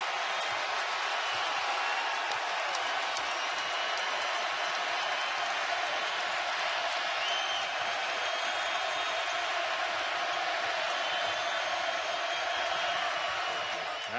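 Loud, sustained roar of a college basketball arena crowd after a made three-pointer in a Kentucky game, dense cheering and applause filling the whole stretch at a steady level.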